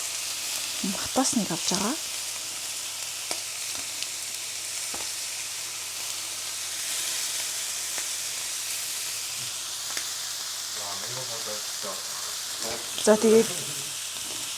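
A steak fries in a pan, giving a steady sizzling hiss throughout. A person talks briefly at the start and again near the end.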